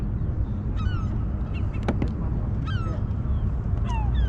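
A seagull caught on a fishing line gives a series of harsh, squawking calls in short bursts over a noisy outdoor background, with a sharp clatter partway through.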